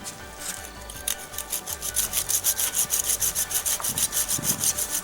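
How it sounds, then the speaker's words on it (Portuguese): A folding hand saw cutting through bonsai tree roots in garden soil, a fast regular rasping back-and-forth stroke that starts gently and grows louder and steady, close and alone without talk. "ferramenta essa é um serrote, tá? Só que ele é um serrote dobrável"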